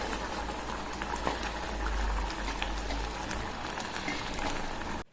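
A pot of egg kurma with mint and coriander bubbles at a steady boil, a close, dense crackling and popping that continues evenly before stopping suddenly.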